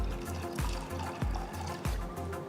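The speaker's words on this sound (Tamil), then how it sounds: "பயிறு முழுகிற அளவுக்கு தண்ணி ஊற்றி" Water poured into a pressure cooker over soaked green gram, a steady splashing stream with rhythmic surges, close but fairly soft.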